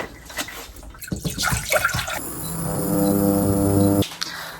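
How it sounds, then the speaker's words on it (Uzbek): Drinking water pours into a kettle in a hotel room in Paris: a clattering splash and handling first, then a steady filling stream whose pitch climbs as the vessel fills before stopping abruptly. "Keyin ichiga o'zimiz ichadigan mana bunaqa suv quyamiz, krandan quymaymiz."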